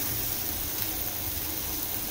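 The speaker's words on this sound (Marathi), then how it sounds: "आपण चांगलं परतून घेऊ हे." Garlic, coconut, ginger and coriander masala sautéing in a pan, giving a steady, close frying sizzle with no talk.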